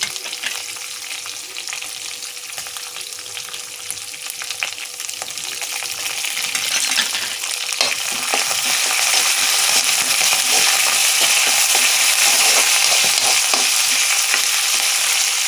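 Curry leaves and tempering sizzle and crackle steadily in a hot pan while lemon pulihora is made, the frying growing louder and denser partway through, with faint stirring and no voices.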